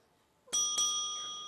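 A doorbell in a thriller drama gives a clear two-tone ding-dong, two sharp bright strikes close together that ring on and slowly fade in an otherwise quiet room.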